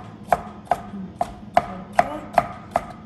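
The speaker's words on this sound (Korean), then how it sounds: "잘게 썰어주시면 돼요." Knife chopping food on a cutting board while preparing a tortilla dish: seven sharp, evenly spaced chops about every 0.4 seconds, close and clear, with no voices.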